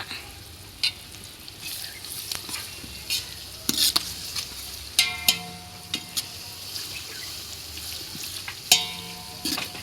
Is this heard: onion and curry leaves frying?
yes